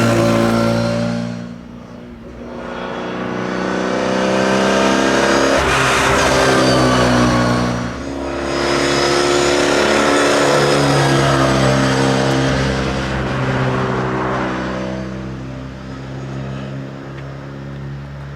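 A classic Gulf Mini's engine warms up on a drive, a steady close drone that swells as it revs and eases back between pulls, with no talking.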